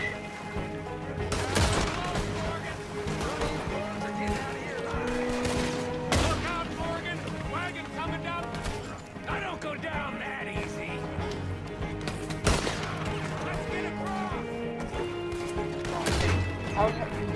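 Repeated gunfire from a stagecoach robbery in Red Dead Redemption 2, irregular sharp shots scattered across the stretch over steady game music and ambience, with a voice talking at times.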